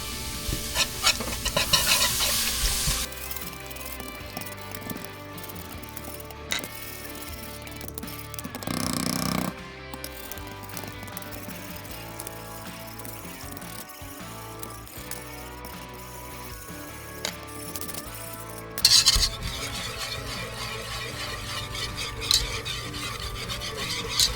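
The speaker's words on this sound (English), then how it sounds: "Okay, I'll whisk the clam juice in." A whisk steadily churns clam juice into a pot of walleye chowder, making continuous rasping, scraping stirring at close range with a few louder swirls.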